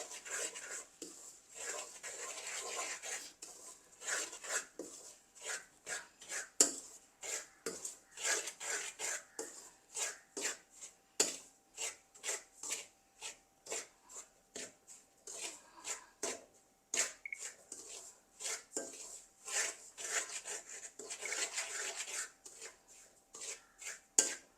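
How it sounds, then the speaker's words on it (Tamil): Semolina (rava), about 500 grams, is dry-roasted in a pan over low heat for jackfruit kesari. A spoon scrapes and stirs it in steady, repeated soft strokes, close and faint, with no talking. "நெருப்பை கொஞ்சம் குறைச்சி கொஞ்சம் நல்லா முருக வறுக்கணும் ரவை."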